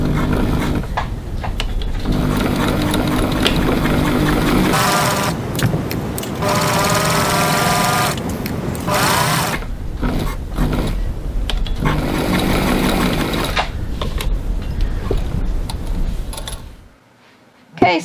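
A sewing machine stitches around a leather wallet flap at a 3 mm seam allowance, a steady close mechanical whirr broken by short pauses over about seventeen seconds before stopping.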